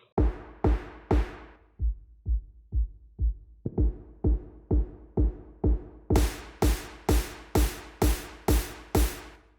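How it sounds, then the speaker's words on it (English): An electronic dance drum pattern with a boomy kick, snare and clap hits in a steady four-on-the-floor pulse. It opens with a few loud hits, drops quieter, then builds until bright, crashing hits join near the end. "it has a boomy kick, 1 snare, 1 clap"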